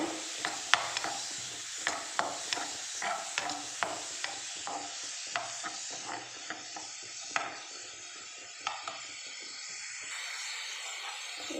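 Raw banana pieces fry in a pan until brown, giving a soft steady sizzle under regular close ticks and scrapes of a utensil stirring at a roughly even pace, fairly quiet, with no voices.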